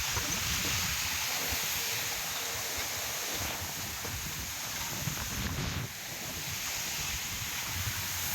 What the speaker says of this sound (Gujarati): ચાલુ જ પવન છે